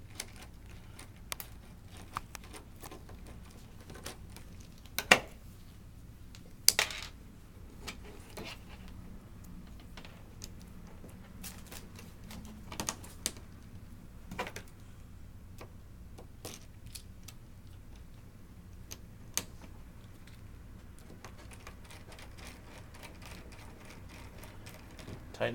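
A screwdriver works a terminal screw on a controller's wiring, giving faint scattered clicks and ratcheting ticks with a few sharper taps over a quiet background.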